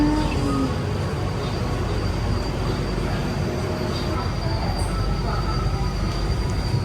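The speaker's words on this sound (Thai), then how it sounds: "ตอนนี้รถไฟก็ออกจากสถานีเมืองทองธานีแล้วนะครับ" A Pink Line monorail train departing Muang Thong Thani station in Thailand rumbles steadily while moving, with a constant low roar, faint squeals and a brief high tone, heard from inside the carriage.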